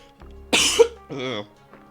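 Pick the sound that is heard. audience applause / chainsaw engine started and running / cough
cough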